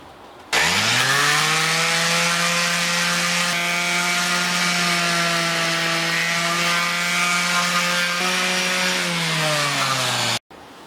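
An electric sander works a wooden workpiece clamped in a vise, its motor spinning up into a steady, loud whine that holds for about ten seconds before winding down and cutting off.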